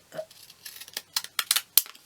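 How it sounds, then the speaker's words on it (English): Wavy scissors snip through 180 g card, a run of short, crisp close-up cuts coming in quick irregular bursts, with no talk. "You can just cut them out if you haven't got wavy scissors."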